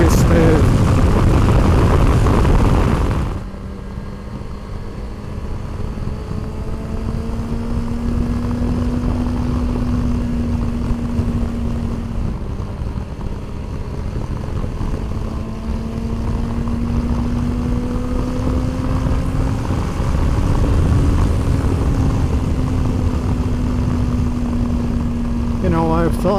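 A motorcycle engine running smoothly at a steady idle with a low, even drone and slight shifts in pitch, after a louder opening burst in the first few seconds.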